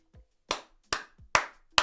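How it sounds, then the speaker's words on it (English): Four sharp hand claps in a slow, even rhythm, close and fairly loud, each a crisp broadband burst with short silences between, accompanied by a few faint low vocal sounds. "Clap, clap, clap."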